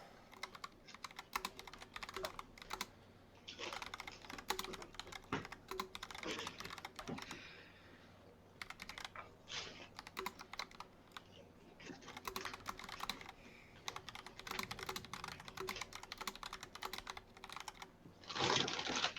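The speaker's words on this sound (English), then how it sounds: "I hear that clicking of a new keyboard there." Someone types on a new, clicky computer keyboard, producing a rapid, uneven stream of sharp key clicks in bursts with short pauses, fairly close but quiet overall.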